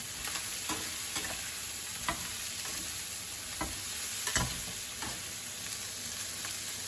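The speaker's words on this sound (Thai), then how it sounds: "แครอทผัดเพิ่มก่อนครับ" Carrots sizzle steadily in a hot pan with Brussels sprouts and pork belly, the stir-fry punctuated every second or so by sharp scrapes of the spatula against the metal, close and continuous with no voices.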